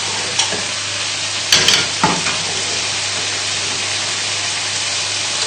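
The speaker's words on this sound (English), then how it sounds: "So I'm going to put the chicken back on the main heat and put the noodles back on the medium heat." Chicken for a chilli chicken stir fry sizzles steadily in a hot pan, a loud continuous hiss broken by a couple of brief stirring clatters near the start.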